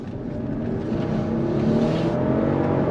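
Inside a moving Mercedes SL 65 AMG roadster, the twin-turbo V12 produces a continuous low rumble that gradually swells as the car pulls away, layered with steady road and wind noise and no talking.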